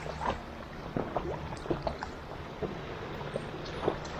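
Sea swell sloshing around an inflatable drop-stitch kayak inside a sea cave at North Landing, with faint, irregular water slaps and splashes over a soft, hollow wash of background noise.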